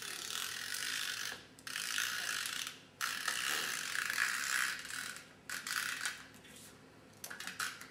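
Adhesive runner tape dispensed in several long ratcheting strokes along a paper strip for an Easter tree craft, clicking steadily with brief pauses between runs, close and clear with no talking.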